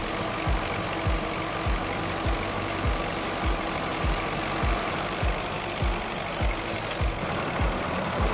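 Vintage tractor engine running at an agricultural show in New Zealand, a steady, loud low chug with regular knocking pulses roughly every half second, heard close and alone.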